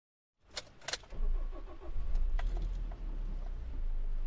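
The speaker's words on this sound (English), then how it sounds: "Once in the car, you make one more effort to talk Charlie out of driving" A car door clunks and the engine turns over and catches, then settles into a steady running hum as the vehicle pulls away, a close, dry radio-drama sound effect with no voices.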